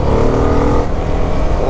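A CF Moto SR 300 motorcycle engine roars loudly and close, holding a steady revving drone that dips briefly and then picks up again.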